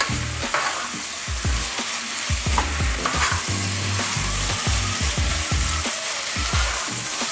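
Tomato paste and chopped vegetables sizzle steadily in a hot pan for a beef stew, with repeated scraping and stirring knocks from a utensil, close and continuous, no talking.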